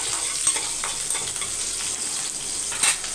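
Onions for radish sambar sauté in a hot pan with a steady broadband sizzle, broken by a few soft stirring scrapes, with a brief louder crackle near the end and no talking.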